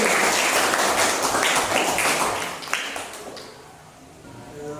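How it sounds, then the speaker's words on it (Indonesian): Audience applause at the close of a group discussion presentation during a teaching exam session, starting as a dense wash of clapping and gradually thinning and fading out. "Berikan tepuk tangan untuk kita"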